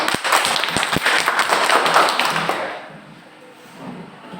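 Students in a classroom give a quick round of clapping, crisp close hand claps for a couple of seconds that fade out into quiet room tone.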